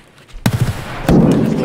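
Gunfire in the Escape From Tarkov video game, a few quick pops followed by a loud sharp shot and a dense rumbling burst, fairly close.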